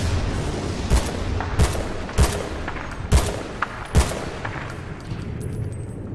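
Gunfire in the video game Battlefield Bad Company 2: five or six loud, sharp single shots at roughly one-second intervals, each with a short echoing tail over a steady background rumble.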